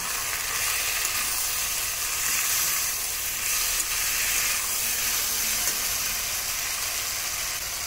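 Vegetables with ginger-garlic paste, dried red chilli paste and a pinch of sugar sizzle steadily in hot oil while being sautéed for a Bengali rui fish curry, a continuous close frying hiss with no talk.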